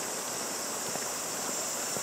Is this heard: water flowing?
yes